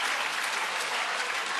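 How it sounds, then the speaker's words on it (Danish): Audience applause fills the whole short stretch, steady dense clapping at a strong level with no voices above it, at a student presentation. "Ja, men en tidlig klapsalve var også godt."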